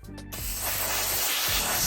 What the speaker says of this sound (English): For this door I'm going to blast it with some steam, get rid of some of the really stuck on grease and oils.